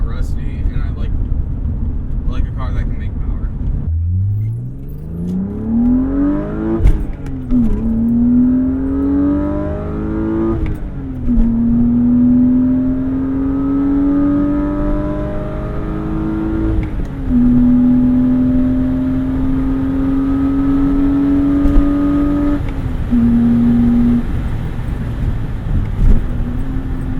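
Crashed BMW M3 engine revving hard while driving, a loud rising growl climbing through several gear shifts with brief dips between pulls, sustained close up.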